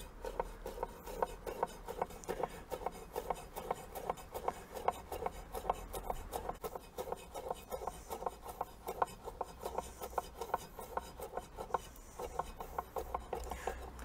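A knife chops parsley and spring onions on a board in quick, steady rhythmic taps, close and fairly quiet, with no talk.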